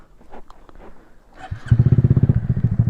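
A 2020 Honda Grom motorcycle starts up after some quiet clatter, then its small engine revs with a loud, rapid pulsing thump during a wheelie attempt.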